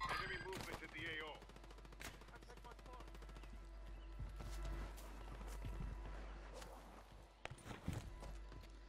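Gunfire in a Call of Duty battle, a rapid rattle of shots and sharp reports spread through the scene at a fairly distant, subdued level, with footsteps and voices mixed in.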